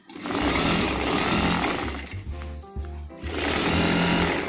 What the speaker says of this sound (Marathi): आता शिलाई पक्की करून घेण्यासाठी त्याच्यावरती डबल टिप देऊया